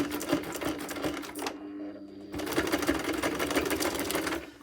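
A sewing machine zigzag-stitches a paper journal card in two close, loud bursts of rapid rattling, separated by a brief pause.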